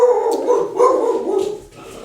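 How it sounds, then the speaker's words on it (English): A dog named Hippo barks and howls continuously, a drawn-out, whining, yowling series of barks that is loud and fills the moment without other sounds. "that's Hippo in the background barking at nothing"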